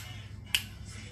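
A single crisp finger snap sounds close, sharp and brief, against a quiet room hum.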